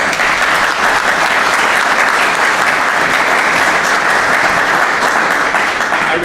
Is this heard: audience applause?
yes